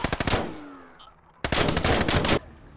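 A captured machine gun fires in the video game Call to Arms: Gates of Hell, a rapid burst of shots followed by a pause and then a second, longer sustained burst, loud and close.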